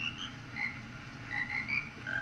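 Frogs croaking in a Termina area of a Zelda video game, a chorus of short chirping croaks scattered irregularly over a quiet ambient background, moderately loud and alone.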